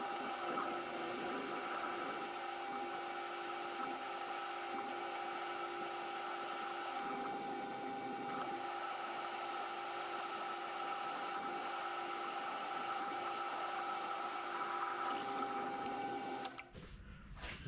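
A lathe drills out a metal dividing head backplate with a 23.5 mm drill, making a steady whining, humming machine tone that runs unbroken for many seconds before it abruptly stops near the end.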